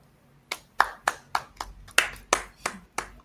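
A small group claps in separate, uneven bursts, about nine sharp hand claps spaced across a few seconds, fairly close and with no voices.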